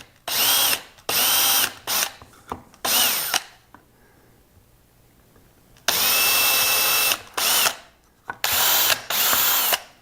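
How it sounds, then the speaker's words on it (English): A power drill bores into whiskey barrel wood in several loud, close bursts of whining, separated by short pauses and a longer quiet gap in the middle. "Now all I'm going to do is drop a hole in here."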